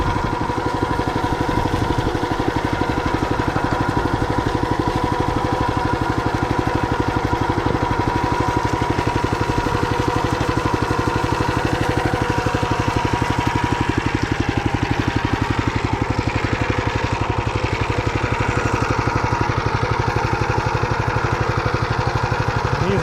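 A tractor engine idles steadily and loudly at close range during potato digging, a constant low rumble with no pauses throughout.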